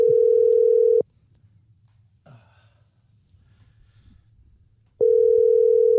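An outgoing phone call rings with two long, steady ring tones about four seconds apart, loud and close, with a quiet breath and faint room noise in the silence between them.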